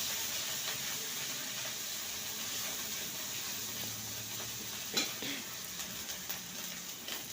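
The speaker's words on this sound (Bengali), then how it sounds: "মশলাটা কষিয়ে নেব।" A spice paste of ground poppy seed, ginger and green chili fries in a pan, giving a soft, steady sizzle and hiss with a faint stir or clink partway through, close and alone.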